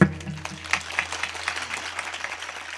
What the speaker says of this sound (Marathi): तुम्ही बघितलं का टाळ्या कुठं वाजल्या फक्त